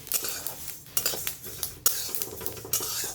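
Flaxseeds dry-roasting in a pan are stirred with a utensil, producing repeated scraping strokes and light metallic clinks against the pan, close by, with faint crackling between strokes and no speech.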